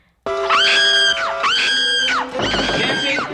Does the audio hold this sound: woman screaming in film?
yes